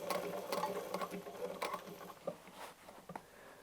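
A sewing machine stitches patchwork at a short stitch length, a fast mechanical whirring and clatter close by, slowing into a few separate clicks near the end.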